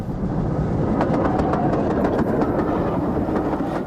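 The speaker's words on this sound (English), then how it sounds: "first-generation diesel multiple units were used, and one arrives at Roydon on the 25th of January 1959" First-generation diesel multiple unit train running into Roydon station in 1959, a loud close rumble with rhythmic clickety-clack of wheels over rail joints and a steady engine drone throughout.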